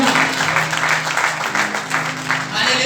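A church congregation claps steadily and loudly during a sermon, a dense continuous burst of applause with a voice speaking underneath.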